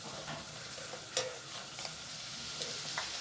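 Golgappas deep frying in hot oil, a soft continuous sizzle with occasional clinks and stirring sounds from the pan, close and fairly quiet.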